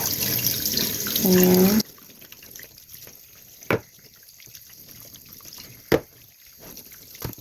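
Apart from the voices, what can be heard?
washing pork ribs under running water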